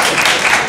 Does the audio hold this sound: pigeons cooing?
no